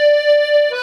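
A DG melodeon sounds a single sustained reedy note without its extra lower-octave reeds, bright and close, shifting briefly to another note at the end, with nothing else heard.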